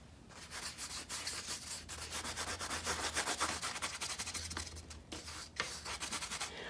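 Brisk rubbing of thinned blue grisaille oil paint, loosened with mineral spirits, onto canvas; close, scratchy back-and-forth strokes in a fast, uneven rhythm that dip briefly near the end before resuming.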